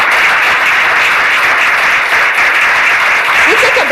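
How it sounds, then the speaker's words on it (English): Audience applause at a mentoring talk event, a steady dense wash of clapping held at an even level throughout with no gaps. "I think she deserves an applause."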